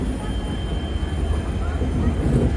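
Low rumbling rail noise of a passenger train arriving at Guwahati railway station, a steady dull roll with faint platform ambience and a soft high whine, heard over a brief moment.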